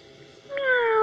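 A person imitates a cat's meow in one rising, drawn-out cry that begins about halfway through and is close and fairly loud, with no other talk.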